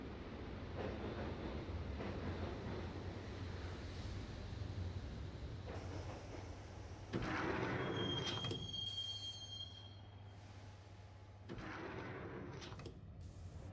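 Subway train ride in the Max Payne video game, with steady rumbling wheels on rails, a loud screech of squealing wheels midway and shifting clatter of the moving car.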